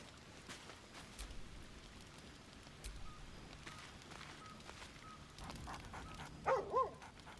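A dog barks in two quick bursts near the end, over a steady patter of rain in Baldur's Gate 3.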